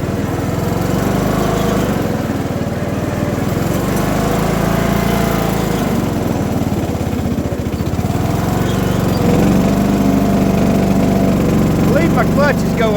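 A John Deere mud mower project, started and ridden for the first time in a year, runs with a loud, steady, rough small-engine drone that stays close the whole time, with a voice briefly heard over it.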